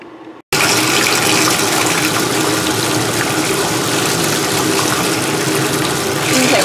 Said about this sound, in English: we are gonna turn on the tub